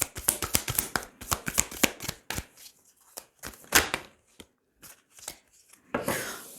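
Tarot deck shuffled by hand during a French reading, a quick run of crisp riffling card flicks and taps, close and clear, then a pause and a final shuffle, with no talking.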